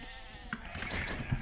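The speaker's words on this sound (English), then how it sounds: "What is this sheep doing?" Sheep bleating in the real-time strategy game Age of Empires, a short wavering bleat or two near the end of the brief moment, fairly close and clear against faint game ambience.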